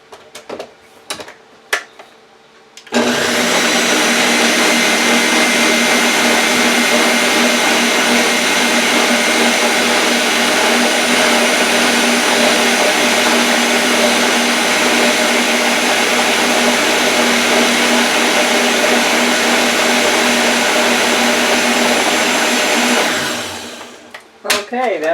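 An electric hand mixer whirring steadily through sweet potato pie filling, a loud continuous motor hum for about twenty seconds, with brief clicks and handling noise before it switches on and after it stops.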